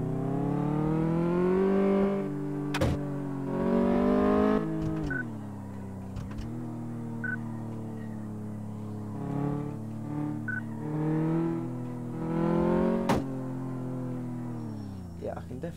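In Car Mechanic Simulator 2014, a car engine drones on the test track during a steering test, with the pitch rising and falling as it speeds up and slows down, plus a few short electronic beeps, all steady and moderately quiet.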